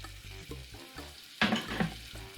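One shallot sizzles and crackles in melted butter that is just starting to toast, a steady close fry with a brighter burst of sizzle partway through as it is stirred.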